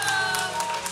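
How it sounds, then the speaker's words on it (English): A church congregation claps in praise, a dense steady wash of many hands applauding together, loud and sustained with a faint tone humming underneath. "Jump on your feet, give God a hand clap of praise."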